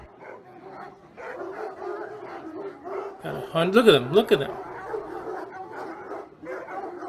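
Many of the 100 dogs in a kennel bark, yip and whimper together at midday feeding time, a loud cluster of barks rising in the middle, with a person talking throughout.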